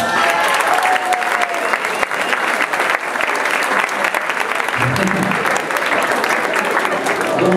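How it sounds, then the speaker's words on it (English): Steady, loud audience applause fills the hall at a Latin dance award ceremony during a Christmas concert, sustained throughout with crowd noise and a few shouts mixed in. "Put your hands together for Jeremy Elias."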